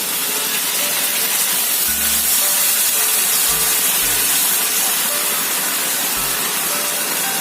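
Spiced egg curry masala of whole onion and tomato sizzling in a pan after a splash of water: a loud, steady, broadband hiss that lasts the whole clip, with a few low thuds and knocks, and no talking.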